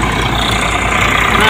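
A tractor diesel engine drives a groundnut basket-model thresher, making a loud, steady, continuous drone with a low rumble throughout.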